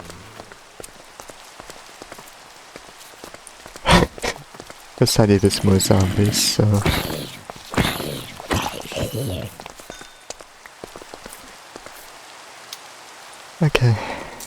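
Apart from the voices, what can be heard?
rain falling in the video game Minecraft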